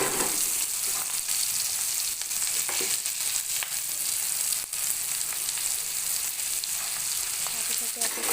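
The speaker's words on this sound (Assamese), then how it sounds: "এইখিনি ভালদৰে ৰঙচুৱা হোৱালৈকে ভাজি ল'ম" Onions fry and sizzle in hot oil with a piece of cinnamon, turmeric and chili powder, making a dense, continuous hiss at steady loudness with occasional faint stirring knocks.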